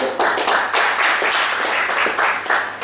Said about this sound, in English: We will give them a big applause.